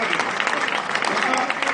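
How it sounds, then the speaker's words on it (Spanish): Audience applause during a live Spanish-language radio broadcast, dense steady clapping filling the whole short stretch at fairly close range. "Fuerte aplauso."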